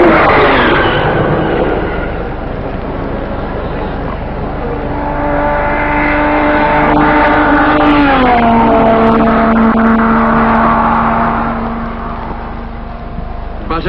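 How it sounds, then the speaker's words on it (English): An Aston Martin race car at the 1955 Le Mans 24 Hours drones past with a steady engine tone that bends downward as it goes by, heard under a narrator's voice on an old, muffled recording. "Behind races the Aston Martin."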